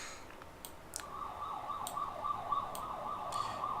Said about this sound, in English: that is a random police car going past my actual house